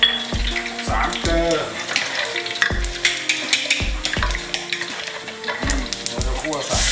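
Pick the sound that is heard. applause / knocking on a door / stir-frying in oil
stir-frying in oil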